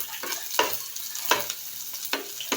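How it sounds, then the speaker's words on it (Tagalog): Garlic and onion sauté in a pan for a miswa and patola soup, giving a steady close sizzle and crackle broken by four or five sharp spatula scrapes at irregular intervals, with no voices. "Gisa-gisa na ang bawang at sibuyas"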